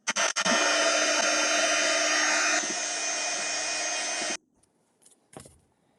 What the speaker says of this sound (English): So I'm using the heat gun just so you know, in case of in terms of noise.